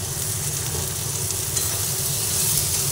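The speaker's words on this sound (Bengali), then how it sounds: "সব একসঙ্গে একটু নাড়াচাড়া করে দিই।" Fish heads and potatoes stir-fried together in a pan, a dense even sizzle with soft stirring scrapes underneath, close and steady with no speech.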